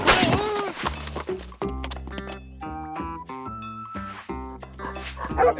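A cartoon dog barks and yips in quick bursts under a cheerful musical score, the barks loud and close, mixed with whimpers and bits of a character's voice.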